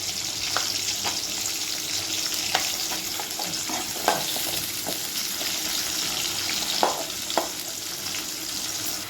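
Chopped tomato and broken green chillies frying in oil in a pan for a chicken curry, giving a continuous close sizzle with occasional spoon stirs and light knocks, no talk.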